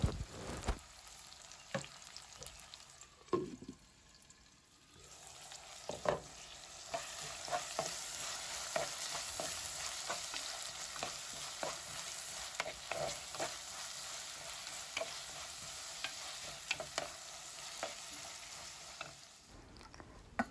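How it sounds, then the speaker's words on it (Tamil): Onions sautéing with green chilli, curry leaves and a little salt in a pan: a continuous close sizzle with frequent spatula scrapes and taps, no talking. "அந்த அனியனை நாங்கள் வதக்கி எடுக்கணும்"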